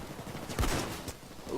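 Enemy gunfire in the Payday 2 video game, a few muffled shots and thumps at moderate distance amid noisy game ambience and faint voices.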